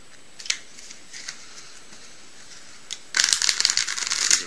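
A deck of playing cards is shuffled, with a few light clicks and flicks first, then a dense riffling burst of card snaps near the end, close and alone.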